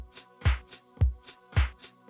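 A synth pad layered with a breathy vocal pad in a house track, carried by a steady groove of thumping kicks and crisp off-beat hi-hats.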